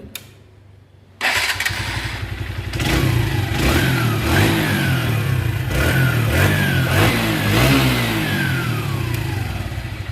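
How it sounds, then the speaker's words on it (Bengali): A rebuilt TVS motorcycle engine with new rings and piston kicks into life after a second of near silence, then idles loudly and is blipped through several rising revs, close and alone. "তো ভিউয়ার্স অবশেষে আমাদের বাইকটি রেডি তো এখন আপনারা ইঞ্জিনের সাউন্ড শুনবেন"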